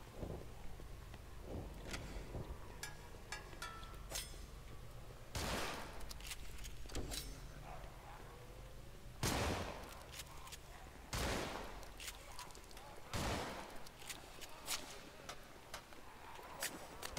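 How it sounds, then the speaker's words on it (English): Shotgun blasts in the zombie game Contagion: about half a dozen loud, sharp, booming shots spaced a second or more apart, with clatter and movement noise between them and no talking. "I'm pulling out the shotgun."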